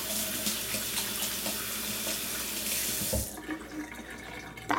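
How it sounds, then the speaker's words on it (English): A kitchen tap runs in a steady, close hiss as hands are washed while cooking chicken sausage and peppers; the flow cuts off about two-thirds of the way through, leaving a few small splashes. "Washing my hands."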